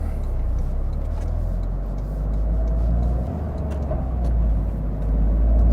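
A Toyota GR Corolla with a short shifter accelerates in first gear from inside the cabin, its engine a steady, loud, low drone that rises slightly toward the end.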